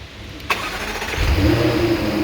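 A 2015 Jaguar F-Type, back from a hydrolock repair, cranks with a sharp starter whir, catches and flares into a loud rev, then settles toward a rumbling idle, heard up close.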